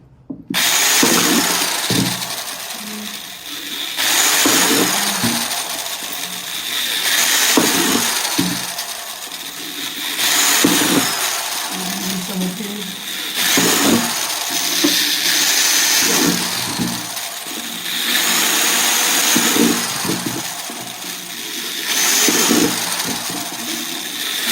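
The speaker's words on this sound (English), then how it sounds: "And then I'm going to drill some on the sides over here." A power drill bores hole after hole through the sides of a worm bin, its loud, close whine repeating in regular bursts with short gaps and handling knocks between.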